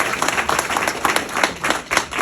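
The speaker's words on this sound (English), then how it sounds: "So let's give him a round of applause." A crowd at a family recovery center graduation claps steadily in a burst of applause, many hands close by with a rippling, uneven rhythm.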